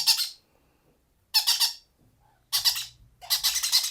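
Shrill, raspy squawks from monk parakeet chicks in four bursts separated by short silences, close and loud.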